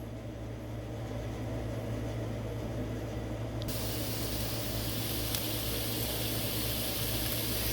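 Leftovers sizzling and frying in a pan, a steady broadband hiss that grows brighter and louder partway through, with no talk over it.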